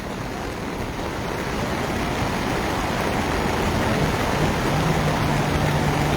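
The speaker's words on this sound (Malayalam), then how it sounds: "വെള്ളത്തിന്റെ ശക്തിയായിട്ട് ഒഴുക്ക് കൂടുന്നു കേട്ടോ." Floodwater after a landslide in Kozhikode roars past as a dense, loud, unbroken rushing wash that grows slightly stronger over the span, with no speech.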